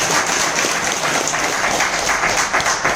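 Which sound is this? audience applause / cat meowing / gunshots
audience applause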